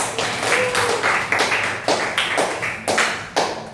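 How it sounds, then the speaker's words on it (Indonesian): A group in a classroom gives applause after a group presentation: a string of sharp, fairly close claps in an uneven rhythm, about eight distinct bursts. "kita beri lagi aplaus pada kelompok 1"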